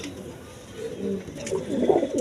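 A pair of Resha pigeons coo softly nearby in low, murmuring bursts that grow a little stronger toward the end, against faint background noise.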